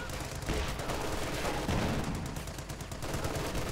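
Dense, continuous gunfire from light machine guns in a Company of Heroes 2 match, sustained bursts and rattling shots layered together at steady loudness for the whole stretch.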